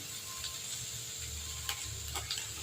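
Dried red chillies and curry leaves fry in hot oil, making a soft continuous sizzle with a few faint stirring ticks, close and quiet, with no talk.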